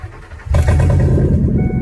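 A Ford F-150 pickup with its catalytic converters removed cranks and fires up, the engine bursting into a loud, rough, rumbling idle close by after a brief starter whir.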